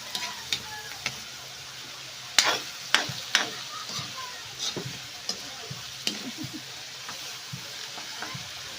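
Chicken liver frying in a home pan for pancit, a soft steady sizzle with scattered stirring clicks and utensil taps against the pan, close and moderately quiet, no talking.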